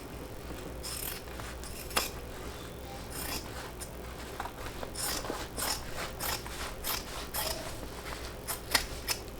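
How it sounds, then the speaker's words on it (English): Scissors trim away a fabric seam allowance while finishing a Brunella sewing project, giving a string of crisp snipping and clicking cuts at an uneven rhythm, close and fairly quiet. "I'm going to go ahead and trim mine off."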